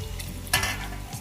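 Boiled pork sizzles in a pan as it fries, a close steady crackle with one brief louder burst partway through, likely from stirring; no one speaks.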